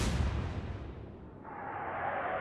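A warship's naval gun fires in the Atlantic Fleet naval battle game, a deep booming blast at the start that rolls off into a long low rumble, followed by a steady windy hiss.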